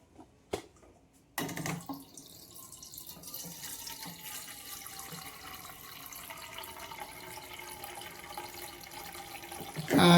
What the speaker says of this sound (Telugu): ఇందులో వాటర్ పట్టుకుందాం.